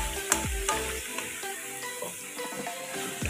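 Native chicken adobo stirred in a pot, with close clanks of the spoon against the metal rim and a soft bubbling sizzle running underneath.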